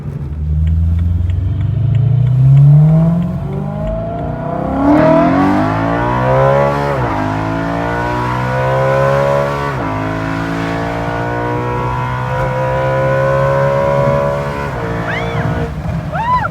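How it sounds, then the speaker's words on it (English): A BMW E92 M3 with a custom double X-pipe Valvetronic exhaust, heard close and loud with aggressive induction noise as it revs and climbs through gears, then blips through several downshifts. "This is the angry induction noise."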